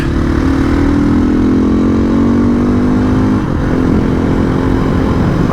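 A Sherco 500 ADV motorcycle engine drones loudly and steadily under trail braking, its pitch sliding gradually down over several seconds before a brief dip and continued rough, close rumble with heavy wind noise.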